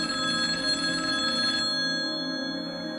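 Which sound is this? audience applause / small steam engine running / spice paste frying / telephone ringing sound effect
telephone ringing sound effect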